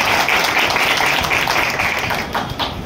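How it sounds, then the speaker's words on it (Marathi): A seated audience in a Datta temple hall applauding loudly, dense continuous clapping close and steady throughout. "एकदा जरा जोरदार टाळ्या होतो"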